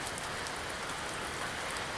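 Heavy rain pours steadily outdoors on a Konkan coastal mud-crab catching trip, a dense continuous hiss of drops on surfaces, loud and close with no voices.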